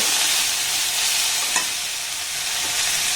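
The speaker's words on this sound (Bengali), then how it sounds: "আবারও সমস্ত উপকরণ ঢাকা দিয়ে একটু নাড়াচাড়া করে ভেজে নেব।" Vegetables with three kinds of capsicum stir-fried in a pan, producing a dense continuous sizzle with a light scrape of stirring partway through, loud and close.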